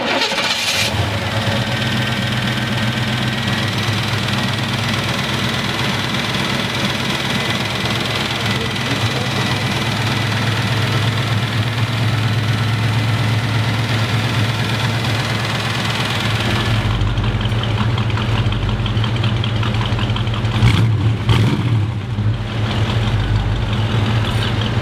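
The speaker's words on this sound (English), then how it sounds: "Here we go for a ride in the Corvette 1936 Chevy." A 1936 Chevrolet street rod with a Corvette engine cranks and catches, then settles into a steady, rumbling idle heard close up, with a shift in tone near the end.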